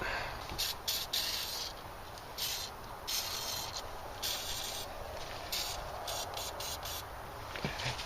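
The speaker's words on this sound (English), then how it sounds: "just spray it with WD-40 around the gasket and try and loosen up that gasket a bit" WD-40 is sprayed around the throttle body gasket of a 1989 Toyota Celica GTS with a 3S-GE engine, heard as repeated short hissy aerosol bursts, close up, over a continuous rough background.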